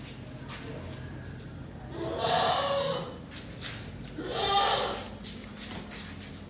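Goats at a livestock market bleat twice, each call long and wavering, at moderate distance over a low background murmur, with short gaps of quieter ambient noise between them.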